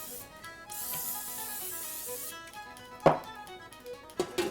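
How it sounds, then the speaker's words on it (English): A soft hiss of cooking spray onto a pan lid lasts about two seconds, then a couple of sharp clicks and light clanks follow. "don't forget to spray the lid too"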